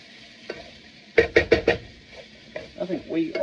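Channa masala spice paste sizzles and frying in a hot pan, with a quick run of four loud stirring scrapes followed by quieter, irregular spoon-and-sizzle sounds close by.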